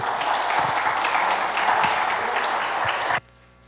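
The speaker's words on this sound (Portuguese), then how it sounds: "Que as palmas louvam o nome do Senhor." Church congregation applauding during a service, steady dense clapping for about three seconds that stops abruptly, leaving near silence.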